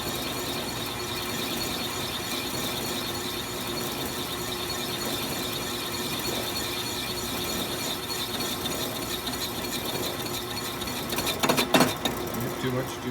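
A lathe turns an aluminum gearbox case for a Norton Commando motorcycle, giving a steady, close mechanical whirring and clicking throughout, with a brief louder rattle near the end.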